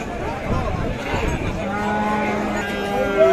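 Sahiwal cattle at a busy livestock market in Bangladesh, with moos and lowing mixed into steady crowd chatter and market noise, a louder call rising near the end.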